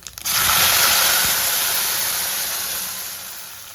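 Water is poured into a hot upma tempering of popped mustard seeds, bursting into a loud, close steamy hiss and sizzle that gradually fades over a few seconds, with no talk.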